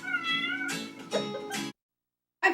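A vegan house cat meows close and clearly, giving a long drawn-out call and a few shorter mews, then one more brief meow after a short pause, with no talking.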